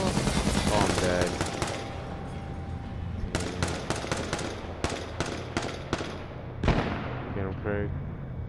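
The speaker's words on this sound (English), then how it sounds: "I'm getting shot." Rapid gunfire in the survival shooter H1Z1, with a dense burst at the start, then repeated sharp single shots and short volleys at close range, and voices talking over parts of it.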